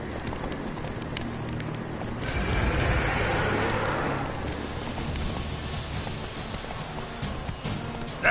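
Roach, a horse in The Witcher 3, gallops with fast, steady hoofbeats under continuous wind and ambient game noise, with a short swell of rushing sound partway through.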